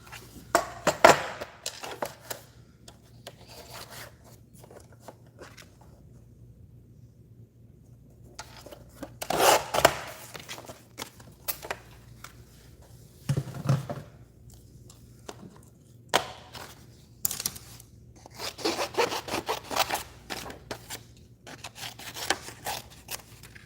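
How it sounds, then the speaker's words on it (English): White paper cut down for card fronts in a craft session, with bursts of scraping and slicing strokes between quiet gaps over a faint steady hum, close and fairly soft, no talk. "Let me cut this down for my card fronts"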